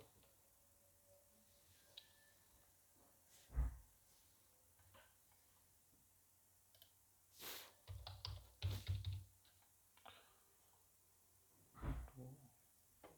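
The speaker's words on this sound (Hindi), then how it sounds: "तो मैं यहाँ OTP टाइप करूँगा।" Keys tapped on a computer keyboard while entering a one-time passcode, quiet scattered clicks in short bursts with pauses between, close up in a still room.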